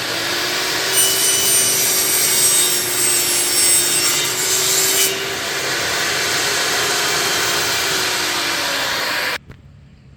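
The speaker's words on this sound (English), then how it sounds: "I'm getting ready to turn the saw on, so it's going to get pretty loud." A power saw cuts through wood to make a sandpaper cutter, giving a loud, close, continuous whine with a steady droning tone that cuts off abruptly near the end.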